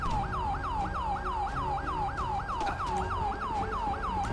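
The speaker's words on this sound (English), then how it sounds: "Let me turn off my siren." A police car siren in the video game GTA 5 wails in rapid repeating yelp cycles, loud and close, over a low engine drone with no talking.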